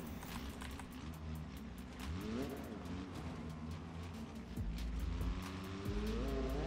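A large off-road car in BeamNG.drive revs and accelerates on a trail near an abandoned mine, its engine note climbing and dipping through several pushes of throttle, fairly quiet overall with faint clicks.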